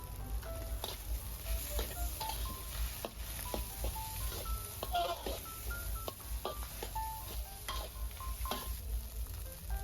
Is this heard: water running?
no